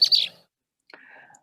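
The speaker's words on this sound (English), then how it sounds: "Those are the songs of the male and female red-winged blackbird, and they often duet just like that" Male and female red-winged blackbirds duet: a bright, buzzy high call, a short pause, then a lower trilled reply, both brief and close.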